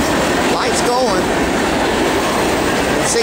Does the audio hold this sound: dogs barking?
no